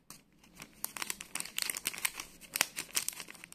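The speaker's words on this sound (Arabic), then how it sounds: "عندي كيس ديال الخميره الحلويات من فئه 8 غرام، غنديرو كامل." An 8-gram sachet of pastry yeast is handled up close, giving soft, irregular crinkling and crackling of thin packet material in quick bursts, with no voices.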